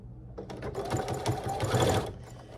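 A sewing machine stitches a fabric tote bag in a short steady run with a brief back stitch, its motor whir and rapid needle clatter close and clear with no talking.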